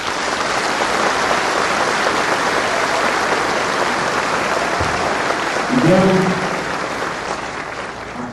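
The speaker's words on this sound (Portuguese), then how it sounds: "E a eles eu peço uma salva de palmas." Sustained applause fills a hall at a diploma ceremony for officials elected in Campo Grande, a dense even clapping that swells briefly before tapering off, while a voice speaks a couple of words over it.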